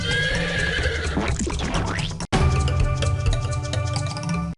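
A horse neighs loudly as a game sound effect in the trivia quiz game You Don't Know Jack, a long whinny with clip-clop hooves and clinking, cut by a brief gap and then continuing alone.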